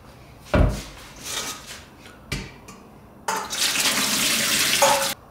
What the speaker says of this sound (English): I'm just going to rinse these up a bit before we cut them up